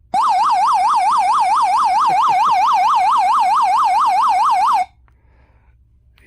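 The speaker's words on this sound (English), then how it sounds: "So now we'll do the siren here." A Libovgogo DF-585 emergency LED camping lantern sounds its built-in siren: a loud, close electronic wail rising and falling in rapid, even cycles for about five seconds, then cutting off to near silence.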